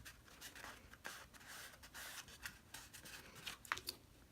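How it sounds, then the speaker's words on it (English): Scissors carefully trimming excess material off a paper Halloween witch's hat treat box, giving soft, faint, irregular snips and rubbing over about four seconds with no talking. "So I'm going to just carefully trim the excess and not cutting into the box."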